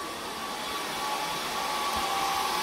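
A dense, constant whirring roar of many server fans fills a server room, steady and loud with a faint high whine on top.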